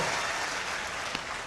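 Audience applause at a mushaira poetry gathering in Lucknow, a dense sustained clapping from a large crowd filling the hall without a break.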